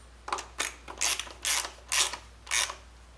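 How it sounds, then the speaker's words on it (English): A calibrated torque wrench gives six evenly spaced, sharp ratcheting clicks while tightening valve cover screws on a Chevrolet Cruze 1.8L engine, close and distinct over a faint low hum. "turn on my calibrated torque wrench, and we'll go from the middle to the outside, approximately 6 foot-pounds each screw"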